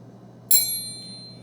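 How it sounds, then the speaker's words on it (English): A metal triangle is struck once, giving a sharp bright ding that rings on with a long shimmering decay over a low steady hum. "If I play this triangle,"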